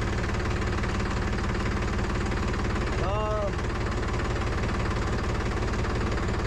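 A tractor engine idles steadily with a low rhythmic chug on a farm in India, holding an even level throughout, with a brief higher whine rising and falling midway.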